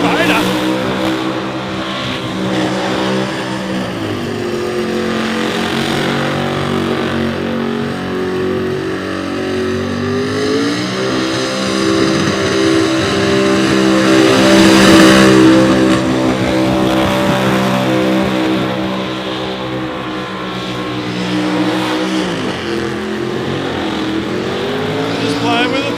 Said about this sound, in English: Just playing with the throttle. Running this thing in.